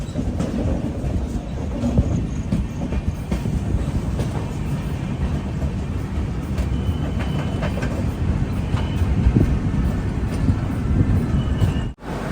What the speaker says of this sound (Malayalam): വറങ്കൽ റെയിൽവേ സ്റ്റേഷൻ 1-ാം നമ്പർ പ്ലാറ്റ്ഫോമിലേക്കാണ് നമ്മുടെ വണ്ടി വരുന്നത്.